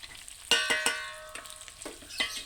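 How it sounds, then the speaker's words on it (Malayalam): Chili, coriander and turmeric powders frying in a hot pan with curry leaves, soft sizzling broken by several sharp metallic stirring scrapes and clinks, close and fairly quiet. "തീ കുറച്ച് വെച്ചിട്ട് നമുക്ക് ഈ പൊടികളൊന്ന് നന്നായിട്ട് പച്ചമണം പോകുന്നിടം വരെ മൂപ്പിച്ചെടുക്കാവേ"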